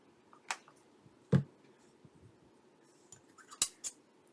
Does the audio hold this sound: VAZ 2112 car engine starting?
no